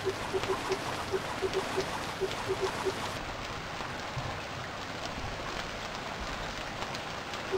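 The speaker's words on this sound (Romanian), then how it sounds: "sunetul de la ploaia asta din joc" Steady rain in the survival video game Stranded Deep, a continuous soft patter with faint drop ticks, fairly even in level throughout with no talk over it.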